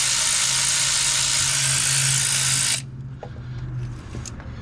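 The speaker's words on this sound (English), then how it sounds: "I use the AC Delco power ratchet because I am not about to sit here and get carpal tunnel twisting off these long ass bolts" Cordless AC Delco power ratchet spinning long bolts out during a Motorad FailSafe thermostat install, a steady loud whirring buzz for nearly three seconds that cuts off abruptly, followed by faint clicks and handling noise.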